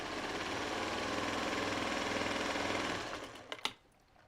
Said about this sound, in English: Now I got to sew them all together.